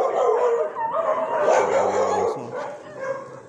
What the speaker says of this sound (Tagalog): Ito mga aso dito.